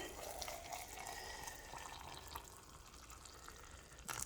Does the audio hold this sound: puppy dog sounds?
no